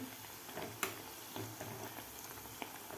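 Soaked chana dal frying in a pan over medium heat until golden, a soft, steady sizzle with a few faint pops and stirring clicks.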